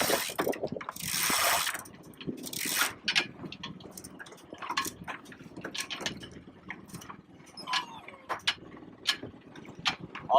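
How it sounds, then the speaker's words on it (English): Sail being hoisted on a sailboat at Wrightsville Beach, with pulley blocks and a winch giving a run of ratcheting clicks and rope-rasping bursts, close and fairly loud, in irregular spurts over wind noise. "We've got our sail rigged up, so now we're ready to hoist."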